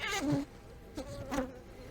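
A honeybee buzzes close against a beekeeper's veil during a hive inspection, giving two short, near, wavering buzzing bursts with a quieter hum between them.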